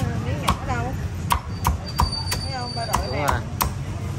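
Repeated sharp cleaver chops of crispy roast pork at an uneven rhythm, landing on a board beneath ongoing conversation and background chatter at a busy banh mi shop.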